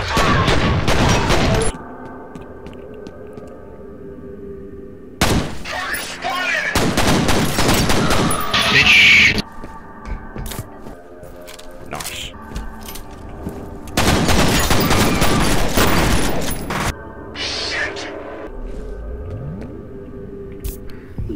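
Video game gunfire from FEAR in long loud bursts of rapid shots, separated by quieter stretches with engine rumble and faint game sounds.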